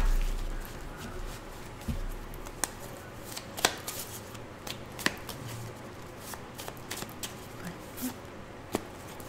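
A deck of tarot-style cards being cut and shuffled at close range, a steady papery riffling with several sharp card snaps standing out, with no talking.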